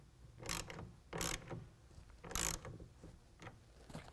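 A ratchet clicks rapidly in several short bursts while tightening the rail clamp of a TruXedo Sentry CT tonneau cover on a 2019 Chevy GMC 1500 pickup bed, close and fairly quiet with pauses between strokes.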